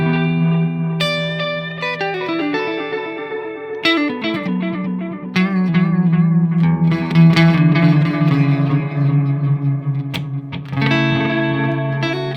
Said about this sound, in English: Let's compare the sound of both, starting with the timeline.